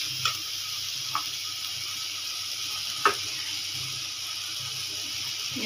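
Hot water is poured into a pan of frying masala in a home kitchen, giving a steady, even hiss and sizzle throughout with a few faint clinks, close and moderately quiet, with no talking.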